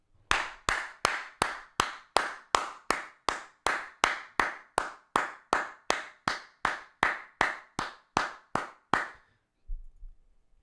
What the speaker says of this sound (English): Just got to give a clap for that.